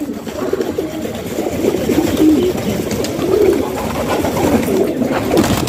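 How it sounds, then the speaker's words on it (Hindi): Pigeons coo in repeated soft, throaty phrases at close range, several birds overlapping against a rustling background with no talk. "जो कबूतर बाकी बैठे हैं ना पीछे उनको भी निकाला है बाहर, ये देखिए आ रहे हैं।"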